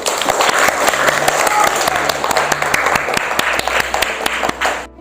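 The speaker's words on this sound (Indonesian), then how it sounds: "Oke, tepuk tangan buat kelompok 1." Classroom applause for a group of sixth-grade primary school pupils, a dense burst of many hands clapping close by for about five seconds before stopping abruptly.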